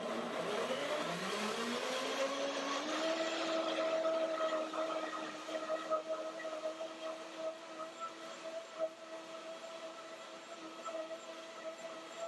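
A Revoblend kitchen blender spins up to speed with a rising whine, then settles into a steady high motor hum that eases slightly in loudness as it keeps running, with faint clatter from the jar.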